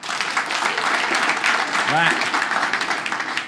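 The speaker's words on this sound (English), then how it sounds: "Clap if you own a house" Comedy club audience clapping in a dense, sustained burst at a stand-up show, fairly loud and continuous, with a man's brief spoken word over it.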